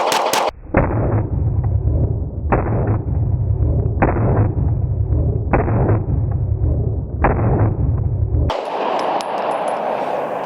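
A Sig Sauer X Macro pistol fires five 115 grain 9mm rounds at a range, sharp evenly spaced reports about every second and a half, loud and close, each with a brief ringing tail.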